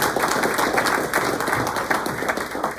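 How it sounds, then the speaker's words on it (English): Applause from the audience at a legislative action committee meeting, a brisk, steady patter of many hands clapping fairly close, continuing without pause for the whole stretch. "Let's give Ben a round of applause."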